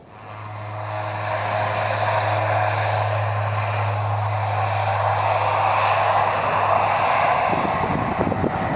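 A Manx 2 passenger airplane flying from Leeds Bradford Airport. A steady, loud engine drone with a low propeller-like hum fills the cabin throughout, swelling at the start, with no voices.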